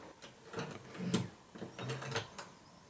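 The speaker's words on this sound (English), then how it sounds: "Next, we're going to fit the screws along the faceplate of the lock." Screws driven into the faceplate of a uPVC window espagnolette lock, a faint series of short mechanical whirring and ratcheting bursts, close and alone.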